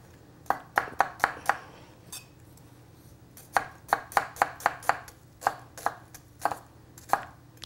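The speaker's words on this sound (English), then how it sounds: "And I'm just going to rough chop." Knife rough-chopping onions on a board, a quick burst of crisp thuds, a short pause, then a second run of steady strokes and a few scattered final cuts, close and fairly quiet.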